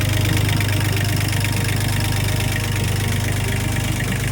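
A sailboat's inboard engine, fitted with a newly wired alternator, runs steadily with a loud, close, even drone and rhythmic low knocking throughout, with no voices.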